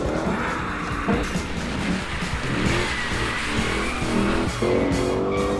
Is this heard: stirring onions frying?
no